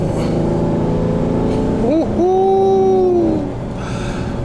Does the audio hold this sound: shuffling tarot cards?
no